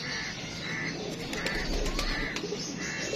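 A young pigeon at home coos repeatedly in soft pulses against steady background hiss and a low rumble, fairly close.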